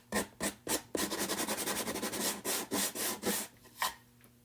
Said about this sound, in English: I'm going to sand it.